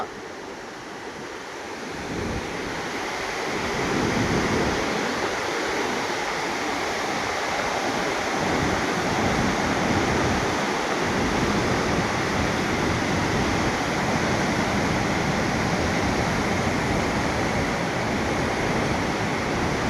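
A continuous loud roar of rushing water from the top of Gaganachukki waterfall fills the scene, steady and broadband, with no breaks.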